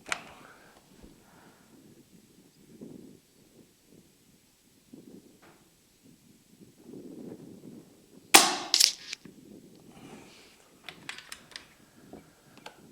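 A single sharp, close crack from a Brocock Bantam Sniper HR air rifle firing at a 75-yard target, followed by faint mechanical clicks and handling noises against a quiet outdoor background.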